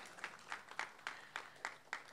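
Applause for Debdutta and Suparna Roychowdhury at a cultural programme, heard as a soft, distant clapping with faint regular pulses roughly every quarter second.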